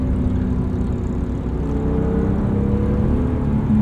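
A 1999 BMW E36 M3 with its S52 inline-six running, a steady rough low drone heard from inside the car, loud and continuous with no talk.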